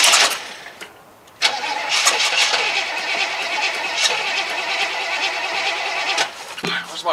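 A Chevrolet Chevelle under restoration cranks and catches, its engine roaring to life loudly and close, then running rough and revving unevenly before sputtering near the end.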